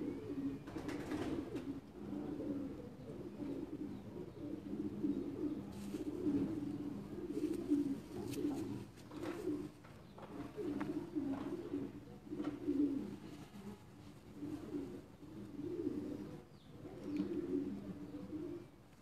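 Racing pigeons of a Netherlands breed gather on a Quetta rooftop, cooing again and again in low, throaty rolling phrases that overlap and carry on steadily, near and moderately loud, with faint chirps now and then.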